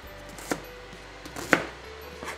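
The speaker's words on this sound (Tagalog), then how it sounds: "mag-chop po tayo ng 4 cloves of garlic" Garlic cloves and an onion being chopped with a knife on a board, heard as a few sparse, sharp thuds spaced about a second apart against quiet kitchen background.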